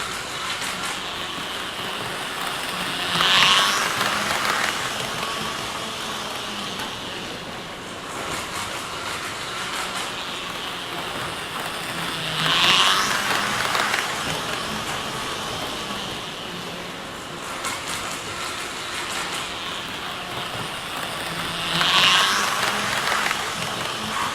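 Model railway trains run with a steady rolling rumble and hiss, broken by three evenly spaced brief squeals or whistles, with no talk over the track noise.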